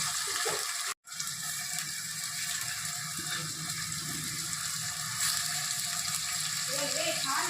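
Onions, green chillies and curry leaves fry in hot oil in a pan with chicken curry on the way, a steady close sizzle running throughout with a brief dropout near the start.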